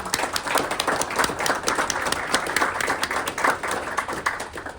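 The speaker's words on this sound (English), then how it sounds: "I do want to give them a big round of applause for their participation" People at a city council meeting give a big round of applause to participants being recognised, a dense, sustained patter of many hands clapping close by, with no talking over it.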